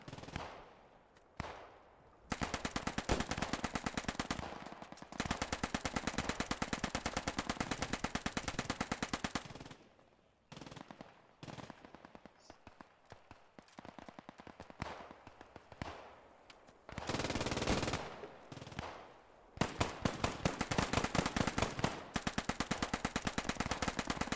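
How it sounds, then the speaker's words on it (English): Sustained gunfire exchange from a World War II battle in the Post Scriptum game, with British Bren, Sten and Enfield fire answering German machine guns: loud continuous bursts and rapid rattling volleys, broken by brief lulls. "Brits returning fire with Brens and Stens and Enfields. The Germans with their MGs trying to put shots down range."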